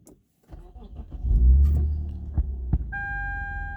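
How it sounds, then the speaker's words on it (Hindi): A used car's engine cranks and fires after a quiet pause, then settles into a low, steady, throbbing idle with a few knocks and clicks, close and fairly loud, with a high electronic chime joining near the end. "अब दोबारा स्टार्ट करके देखते हैं होती है कि नहीं।"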